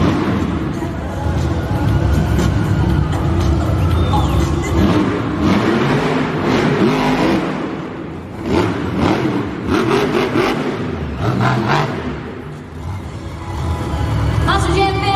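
At a Monster Jam arena show, a monster truck engine roars and revs in surges through a two-wheel skills run, loud and reverberant, with an announcer talking over the engine throughout.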